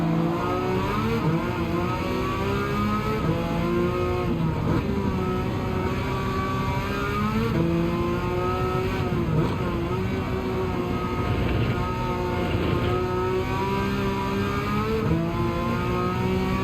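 A race car howls around the wet Nurburgring in Gran Turismo 7, a continuous loud engine drone with rising and falling revs through gear changes, heard alone without talk.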